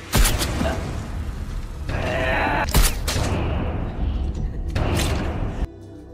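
Guards fire tranquilizer shots in a film scene, a series of loud sharp bursts and thuds over a dense, busy soundtrack, with abrupt cuts between louder and quieter passages.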